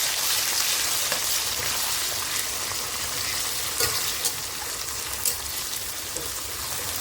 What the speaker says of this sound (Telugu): ఇప్పుడు ఉల్లిపాయలు ఇలా గోల్డెన్ బ్రౌన్ వచ్చిన తర్వాత ఇగో ఈ పేస్ట్ మనం వేసేసుకుందామండి. వేసుకొని కలిపేసుకుందాం.